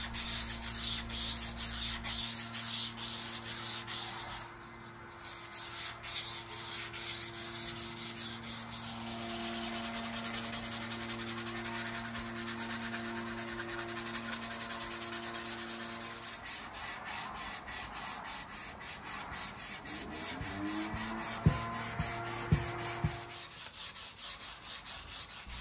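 Sandpaper rubbed by hand along the neck of an electric guitar kit gives a steady, close scratchy rasp in continuous back-and-forth strokes, with a brief pause and a few louder knocks near the end.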